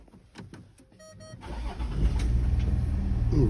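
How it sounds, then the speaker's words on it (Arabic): A Range Rover L494 with a CAN bus fault cranks after a few quiet clicks and a brief chime, then the engine catches and settles into a loud, steady idle close by. "فوالا دورت السيارة"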